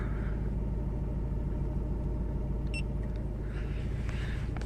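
A manual-transmission car engine starting and settling into a steady, close idle rumble with a rhythmic low pulse, a small mechanical click partway through.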